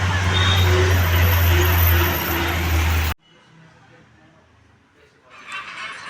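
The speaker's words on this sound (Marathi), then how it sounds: "बापरे गाडी कसला आवाज करते बघ" Loud, dense roar of a vehicle engine and road traffic fills the first half, then cuts abruptly to a much quieter background with faint distant noise and a brief rise near the end.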